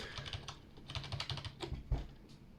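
Typing on a Razer Cynosa Chroma membrane keyboard, a steady run of soft, muffled keystrokes close to the microphone with a few heavier presses, with no talking.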